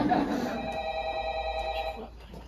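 A telephone rings indoors in an office setting, a steady electronic bell tone lasting about two seconds, with someone speaking briefly over the start of the ring.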